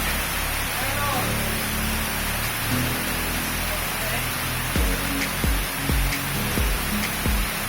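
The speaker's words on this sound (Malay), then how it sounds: "Kacau, di bawah rumah ada hujan guys." Steady rain falls outside a house, a dense continuous hiss with occasional heavier drips and knocks, close and fairly loud, with a few faint voices in the background.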